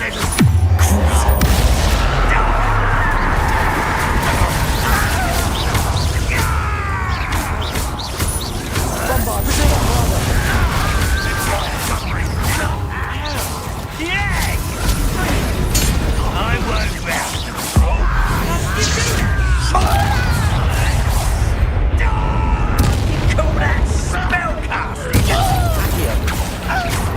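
Bombarda spell explosions in Hogwarts Legacy, heavy booms and crashing debris among dense, loud battle noise against goblins, with voices speaking over the action throughout.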